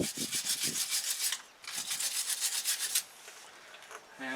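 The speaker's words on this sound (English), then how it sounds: "I'm going to start by just cleaning up these Torx heads" Wire brushing or scrubbing the Torx bolt heads on the brakes of a 2004 GMC Sierra 1500 pickup, making a close scratchy rasp in two long bursts with a short pause, then a quieter stretch with a faint rattle at the end.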